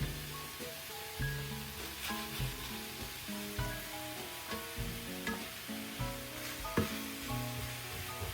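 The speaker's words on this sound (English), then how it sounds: "stir that around with the spatula" Ground beef sizzles steadily in a hot pan while a spatula stirs and scrapes it, the frying hiss continuous and close throughout, with no talking.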